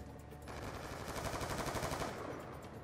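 Rapid automatic gunfire in Call of Duty: Black Ops 2, Gun Game mode on the Hijacked map, a dense sustained burst of shots lasting a couple of seconds, loud and continuous with no talking.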